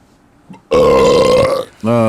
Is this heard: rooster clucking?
no